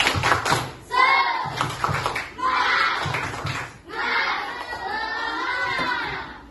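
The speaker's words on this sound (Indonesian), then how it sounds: "Oke, tepuk semangat." Schoolchildren do a rhythmic spirit clap in a classroom, bursts of patterned clapping alternating with loud chanted voices, the group shouting between the clap sequences.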